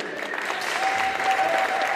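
Steady applause from a crowd at a youth 10m men's air pistol shooting competition, a dense continuous clapping that holds throughout, with a voice briefly audible underneath.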